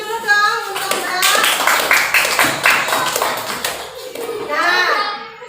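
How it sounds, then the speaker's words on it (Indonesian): An audience claps continuously for about five seconds in a school or teacher-training performance setting, with a dense, steady patter of many hands and children's voices mixed in. "Boleh silakan tepuk tangan dulu dong untuk Mbak."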